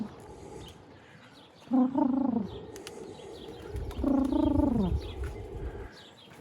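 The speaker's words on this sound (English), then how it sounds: "Hello, pigeons." Pigeons cooing beside a creek outdoors in Regina, two drawn-out gurgling coos a few seconds apart, close by over a faint background of outdoor ambience.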